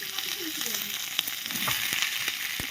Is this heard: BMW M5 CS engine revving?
no